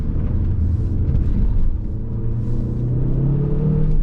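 A CAOA Chery Tiggo 8 SUV accelerates through a turn, its engine giving a loud, steady low rumble heard from inside the cabin that rises gradually in pitch, with no talking.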